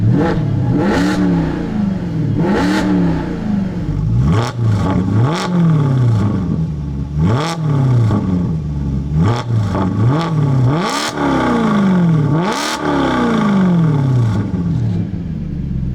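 Maserati GranTurismo Sport engine in sport mode revving hard over and over, loud and close, each rising roar followed by a drop, with a constant deep burble between.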